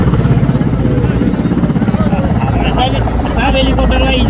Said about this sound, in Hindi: सब एयरफोर्स के हेलीकॉप्टर हो